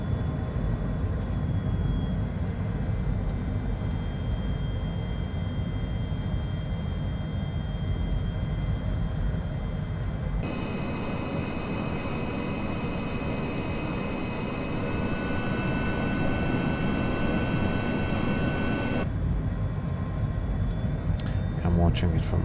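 A Honda Jet HA420 on final approach to runway 09 in Microsoft Flight Simulator 2020 gives a steady, continuous jet engine roar with broadband rushing noise that swells and brightens midway, then settles back.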